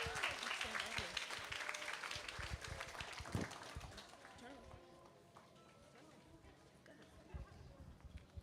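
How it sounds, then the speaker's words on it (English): Families and children at a kindergarten stepping-up ceremony clap and cheer loudly, and the applause gradually thins into scattered claps under murmuring chatter and talk. "Can we give her a round of applause for Ms. Janae as she comes?"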